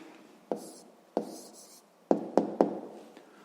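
A pen writing a math answer on paper: five short, crisp strokes and taps spaced irregularly over a low steady hiss, close and alone.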